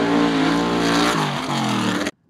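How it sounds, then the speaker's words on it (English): The 598 big block Chevrolet engine in the Hell's Bells pro mega truck, alcohol injected and running a Powerglide, roars loud and close at full throttle, dips briefly as it shifts, then cuts off abruptly after about two seconds. "It's a 598 big block Chevrolet, alcohol injected, runs a glide"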